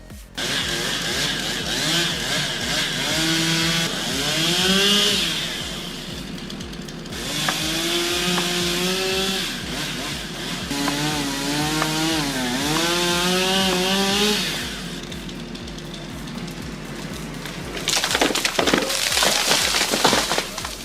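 A chainsaw running through a tree trunk during a risky felling job, a loud sustained engine whine with rising and falling pitch as it bogs and revs, with a harsher burst of noise near the end.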